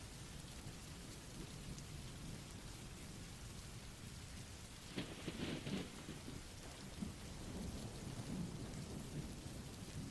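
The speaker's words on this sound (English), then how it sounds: "I got a storm with howling wind and rain slamming against the windows" Steady heavy rain hisses alongside a low rolling rumble of thunder that swells around the middle, a faint, distant storm ambience with no voices.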